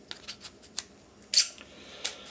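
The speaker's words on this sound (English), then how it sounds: "you can take your scissors" Scissors snip into a ping pong ball, cutting it in half with a run of sharp, close clicks and one louder crunching cut near the end.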